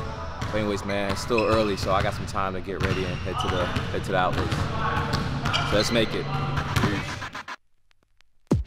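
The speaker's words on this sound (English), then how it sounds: "Yo, cats behind me playing some ball, so excuse the noise." A basketball bounces in repeated thumps from a nearby pickup game while someone talks close up over it, and the noise stops abruptly near the end.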